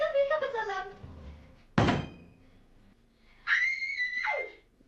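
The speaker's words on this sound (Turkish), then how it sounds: "kapıyı kapatalım." A door is shut with one sharp, loud slam indoors in an old home video, a single heavy thud set between high, shrill vocal sounds before and after.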